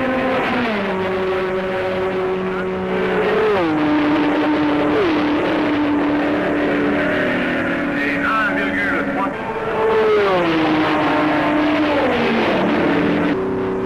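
Ford GT40 race cars at the 1966 Le Mans 24 Hours roar close by. Engine pitch swoops sharply as they shift and pass, with several revving sweeps in a row.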